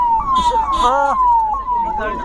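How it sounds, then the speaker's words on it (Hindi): An ambulance siren wails near a demolition site in Noida after the twin tower blast, its tone sweeping steadily and loudly, with other street noise beneath. "एम्बुलेंस मूवमेंट है"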